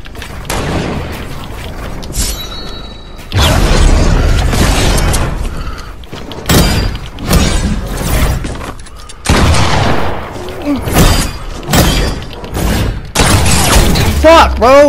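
Gunfire and explosive booms in Fortnite battle royale, including sniper shots, arriving in loud bursts and cracks with gaps between them, mixed with in-game clatter and a player talking throughout.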